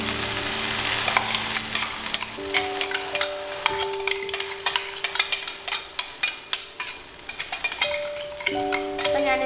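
Crushed coconut tossed into a drumstick stir-fry in a hot pan: rapid rhythmic scraping and stirring over a steady sizzle, loud and close, with faint utensil clinks and no talking.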